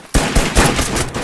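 A loud, close burst of automatic rifle fire in the tactical shooter Thunder Tier One, with a few sharp shots running together over about a second.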